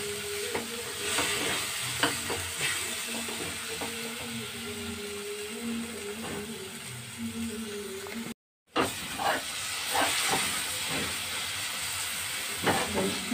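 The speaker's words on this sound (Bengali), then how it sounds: "ভাজা হয়ে গেছে, ফ্রাই হয়ে গেছে, তেল বেরিয়ে এসছে" Spice paste of tomato and masala fries in oil in a pan while dal makhani is cooked. A steady, fairly quiet sizzle carries scraping stirs, with a brief dropout partway through.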